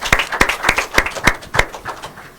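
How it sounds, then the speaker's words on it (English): A small audience claps in a light, brief round of applause, about half a dozen distinct beats fading after two seconds, with no talking. "fat, chubby, more robust round of applause"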